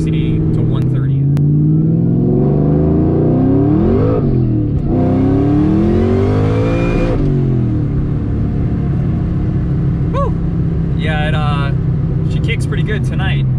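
An 800-horsepower 2003 SVT Cobra pulls hard from 60 to 130 mph on cold tires and cold pavement, its engine note loud and close, climbing in pitch through repeated surges between gear changes.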